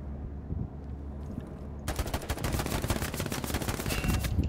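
Gunfire in Hell Let Loose, a World War II shooter: a quiet rumble gives way to sustained rapid automatic fire, dense and loud, continuing to the end without talk.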